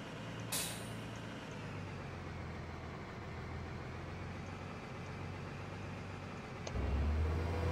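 A black, boxy tractor engine idles in Farming Simulator 2013, a steady low rumble throughout, with a brief hiss near the start and a deeper, louder engine drone rising at the end.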